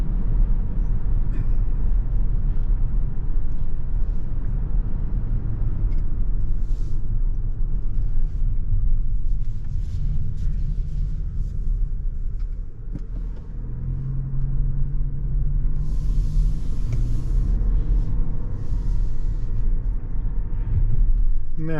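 Cabin drive in a 2023 Toyota Crown Hybrid Max Platinum: steady low road and engine rumble throughout, with a brief dip mid-way before a smoother rise, as the car pulls out of a turn.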